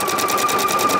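A PFAFF Creative Icon sewing machine stitching at a fast, even rhythm, loud and close with a steady high-pitched motor whine and rapid regular needle pulses, with no talking.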